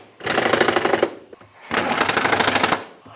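A pneumatic impact tool rattles in two loud, sustained bursts of about a second each, close up, while fuel tank bolts are tightened on a 2012-2020 Ford Focus.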